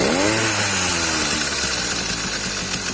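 Small motorized bicycle engine revving hard with its clutch partly engaged, the pitch sliding slowly downward as revs fall over a few seconds, loud, close and buzzing, with no talk.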